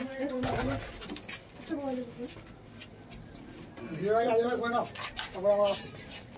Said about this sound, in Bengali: এই যে দাদার দুটো পায়রা দেখতেই পাচ্ছ।